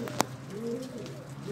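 Pigeon cooing from a loft of Imamdeen Golden pigeons, a soft low warbling coo running steadily through the background with a brief sharper sound near the start, no talk.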